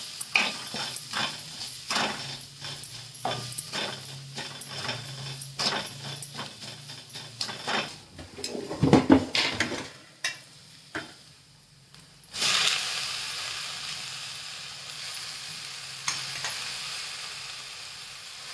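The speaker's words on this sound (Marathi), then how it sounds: "ते वाटण केलेलं आपण ते परतून घ्यायचं" Ground spice paste sautéed in a pan while making a village-style spring onion greens curry, first as a run of quick rhythmic stirring clicks and scrapes, then as a louder, steady hiss of sizzling up close.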